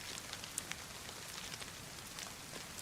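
Steady rain in the video game DayZ, a soft continuous hiss with scattered close droplet taps, moderately faint and with no voices.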